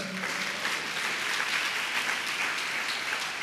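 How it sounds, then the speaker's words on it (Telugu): Steady applause from a church congregation during a sermon, an even wash of clapping lasting throughout with no voices on top. "చప్పట్లు కొట్టకపోయారా?"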